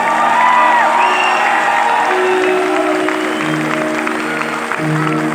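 Audience at a live concert in Italy claps loudly and steadily, with whoops and cheers rising over the dense applause while music tones linger underneath.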